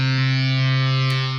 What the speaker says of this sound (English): So let's maybe put some distortion on.